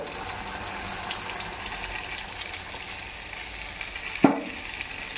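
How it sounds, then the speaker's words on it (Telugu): Milk poured into ridge gourd curry simmering in a pan, a low steady sizzle and bubbling with one sharp splash-like burst near the end, no talking. "ఇంకా మనం దీంట్లోకి పాలు పోసేసుకుందాం"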